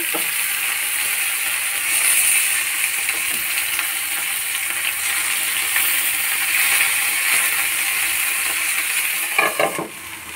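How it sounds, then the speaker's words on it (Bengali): Shrimp paturi with onion greens fries in a covered pan on low gas after being flipped, giving a steady close sizzle with light scraping and clicking near the end. "আরেক পিঠ উল্টে দিচ্ছি"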